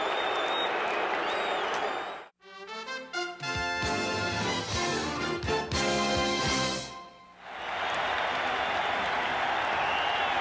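A packed Astrodome baseball crowd of more than 45,000 roars in the 12th inning of a 3-3 tie in the 1986 NLCS Game 6 against the Mets. Loud, broad cheering fills the start and end, broken by a stretch of music in the middle.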